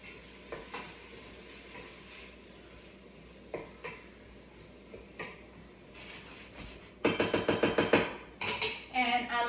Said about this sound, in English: I put like 2 bay leaves in there, and then I'll just, stir it up.